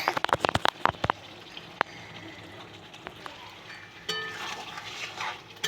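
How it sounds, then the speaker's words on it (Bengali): A spoon stirs chicken curry in a pot, giving a quick cluster of sharp metallic clinks and taps, then a softer scraping with a sizzling, watery hiss, all fairly faint and close. "ঢাকা খুলে এখন ভালো করে নেড়ে জল দিয়ে দেবো"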